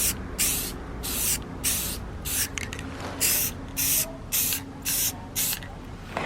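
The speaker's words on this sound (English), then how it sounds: "So we finished spraying it with the clear coat." Clear coat sprays from a can onto full-color sticker paper in a series of short, loud hissing bursts with brief gaps between them, heard up close and alone.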